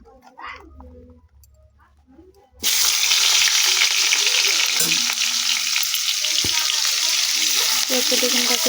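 Onion and mixed vegetables for chowmein hit a hot pan and burst into a loud, steady sizzle after a quieter start with some talk, the frying continuing close and constant with a few stirring scrapes.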